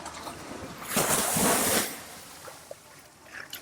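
An ocean wave swells and crashes in a loud rushing surge on Eagle Beach, Aruba, then recedes into quieter wash and wind, with a few small splashes after.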